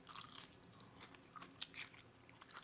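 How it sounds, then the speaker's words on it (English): Crispy fried chicken crunches faintly as it is bitten into, followed by a few quiet crackling chews, close but low in level. "Can you hear that crunch?"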